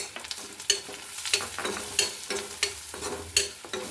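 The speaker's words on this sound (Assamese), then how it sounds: "মছলাখিনি ভাজি ল'লোঁ" Spices, including coriander powder, sizzle in hot oil while a spoon scrapes and stirs the pan in quick, uneven strokes, steady frying underneath.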